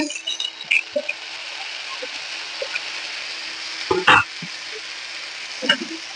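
Tomatoes and green chilies sizzling with browned onions in a pan over a gas flame for a dal, a steady soft hiss of frying punctuated by a few clanks of stirring.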